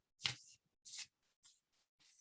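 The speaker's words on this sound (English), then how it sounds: "I'm shuffling this goddess oracle deck." Goddess oracle card deck being shuffled, giving a series of short papery riffles and flicks, a loud first burst and then several softer ones in an irregular rhythm, close by with no talking.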